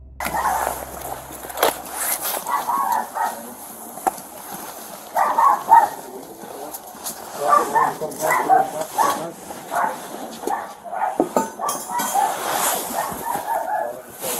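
Two family dogs bark and yip inside a house in repeated short bursts across the whole stretch, fairly close and loud, mixed with other indoor noise.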